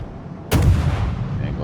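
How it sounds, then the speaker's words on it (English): A heavy naval gun salvo from the destroyer Yugumo in a warship video game: one sudden loud blast with a booming low rumble that rolls on and fades slowly, with no talking. "Yugumo's guns hit very hard, but they take a while to reload"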